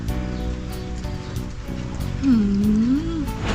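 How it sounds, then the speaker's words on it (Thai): Storm rain falls steadily, a continuous close hiss of drops that swells slightly midway, with a brief faint vocal sound partway through. "ตอนนี้ฝนตกเด้อนี่"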